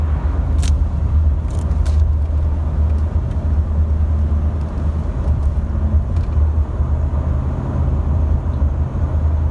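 A Ram pickup truck cruising steadily at 50 miles an hour gives a constant low road rumble and engine drone, heard from inside the cab, with a few faint clicks and rattles and no talking.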